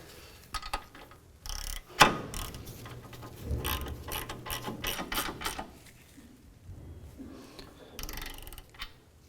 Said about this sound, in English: So now we'll go ahead and install the nut on top. We'll tighten that down.